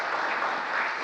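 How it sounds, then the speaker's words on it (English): Audience applause during a political speech by President Biden, a brief burst of dense, even clapping from a large crowd, steady and moderately loud for about a second. "led by the great Chuck Schumer, you'll get a chance to applaud him"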